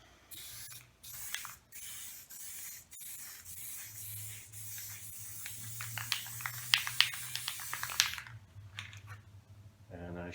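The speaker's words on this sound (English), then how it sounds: "So, just going to give it a spray" A spray can hisses in several short bursts, then one longer continuous spray, close to the microphone, with faint clicks and rattling between bursts.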